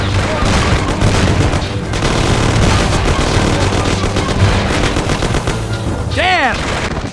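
Loud, dense gunfire from a shootout in the game Mafia: The City of Lost Heaven: rapid automatic bursts and single shots pile up continuously, with booming impacts and a brief whistling sweep near the end.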